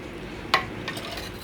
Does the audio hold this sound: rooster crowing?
no